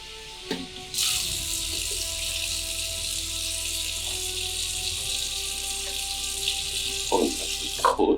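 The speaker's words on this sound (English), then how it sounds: "I might put a little bit more water in." Water pours steadily from a tap into a jar of pickled onions, a continuous rushing stream lasting several seconds, with a few small clinks and knocks of glass near the end.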